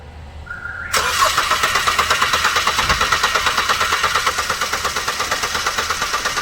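A Mahindra Altroz engine cranks and catches at about one second during repair of a knocking, misfiring fault, then runs with a loud, steady, rhythmic idle that keeps a regular pulsing beat to the end.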